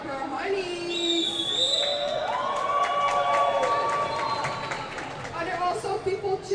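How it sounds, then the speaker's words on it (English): Audience at a Harbour Cup game between Rotterdam's Harbour Honeys and Prague's Pink Avalanche cheering and whooping for the Harbour Honeys, a sustained crowd roar with high shouts that swells for several seconds and then breaks into scattered calls. "who here is cheering for the Harbour Honeys?"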